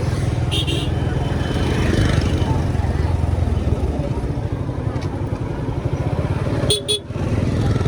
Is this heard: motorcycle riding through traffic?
yes